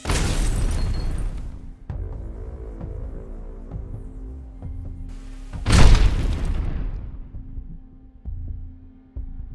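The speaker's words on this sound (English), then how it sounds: "The pickup vehicle that wanted to take gasoline and other items to the truck was blown up." A HIMARS strike blows up a pickup vehicle, heard as one deep, heavy boom about midway through, set against a low, steady droning hum and rumble with no talk.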